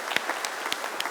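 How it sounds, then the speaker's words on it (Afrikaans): A church congregation claps briefly, a soft, moderately distant patter of hands lasting about a second. "kom ons gee vir hom 'n lekker hande klap"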